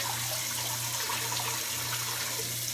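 Tap water runs steadily into a pot for slow cooker pinto beans, a continuous hissing splash with a low hum underneath, close and unbroken.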